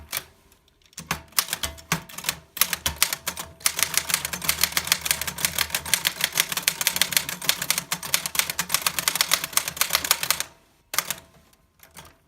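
Steady, rapid keystrokes clatter on a 1910 Royal Model 1 Standard flatbed typewriter for about ten seconds, close and clear, with short pauses at the start and end and no talking.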